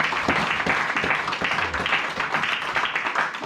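A church congregation applauds during a sermon, a dense, steady burst of many hands clapping close by that fills the whole stretch, with faint voices mixed in.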